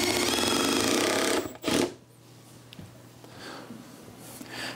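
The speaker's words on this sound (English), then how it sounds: "So we're just gonna screw these up from the bottom side." A power drill drives 1.5 inch screws up into wood from underneath a garden row cover frame, a loud continuous motor whine close by that cuts off, followed by softer handling noise.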